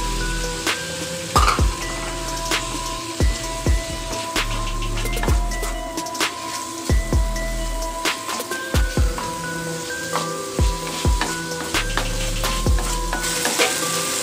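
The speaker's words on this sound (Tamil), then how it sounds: "இப்போ வெங்காயம் தக்காளி நல்லா வெந்து வந்துச்சு, இது பிரானா ஆட் பண்ணிடலாம்." Onions and tomatoes fry in a kadai, a soft steady sizzle punctuated by repeated sharp clicks and knocks of a spatula against the pan, close and without voices.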